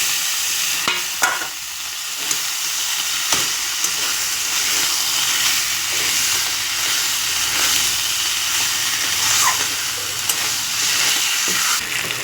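Meat pieces hit hot oil and spice paste in a pan, setting off a steady, loud sizzle with hissing steam and occasional stirring clatter throughout, with no talk.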